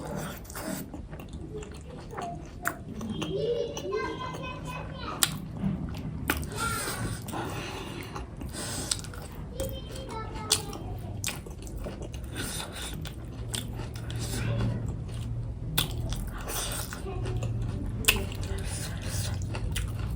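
Pork momo dumplings are bitten and chewed up close, with soft wet squishes and smacking mouth sounds that repeat steadily over a low room hum.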